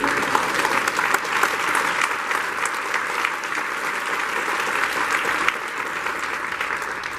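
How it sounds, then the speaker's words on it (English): A panel audience gives Bob Schieffer a sustained round of applause, a dense, even roar of many hands that holds steady and eases slightly near the end. "You didn't give him a round of applause."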